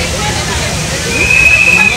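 Water flowing in a park, a steady broadband rush and slosh that swells slightly louder partway through, with a voice talking over it.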